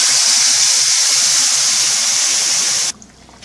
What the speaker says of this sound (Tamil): இப்போ கரைச்சி வச்சிருக்க புளி தண்ணியை விட்டுலாம்.